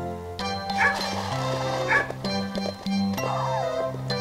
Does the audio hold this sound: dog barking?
yes